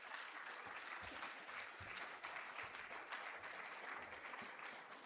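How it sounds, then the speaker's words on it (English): Audience applause for Mr. Ramsey at the JTA Golden Torch Awards ceremony, a steady sustained wash of many hands clapping throughout, fairly distant and even in level. "give Mr. Ramsey another big round of applause"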